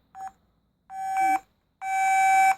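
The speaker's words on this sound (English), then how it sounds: "It's only got one ringtone." The ringtone of a vintage Storno Explorer phone plays as three steady electronic tones, one short and two longer, loud and close with clean gaps of silence between them.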